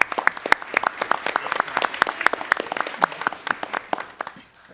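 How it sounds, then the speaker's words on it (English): Audience applause at a school board meeting following a school presentation, dense clapping from a room of people that swells briefly and fades out near the end. "Let's give them a round of applause."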